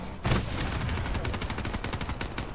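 Gunfire in the video game Black Ops 3 Zombies rattles off as a fast, continuous automatic burst, loud and close, with no voices over it.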